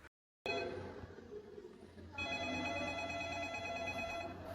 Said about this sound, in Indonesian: Dari tadi berdering gak diangkat.